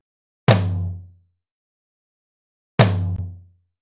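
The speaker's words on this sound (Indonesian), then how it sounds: "Pertama-tama ketuk kick. Kemudian ketuk secara bersamaan tom kanan dan tom kiri sebanyak 2 kali." Two deep, resonant hits on a real acoustic drum kit, a kick and toms, land about two seconds apart. Each booms close and loud, then rings out and fades into silence.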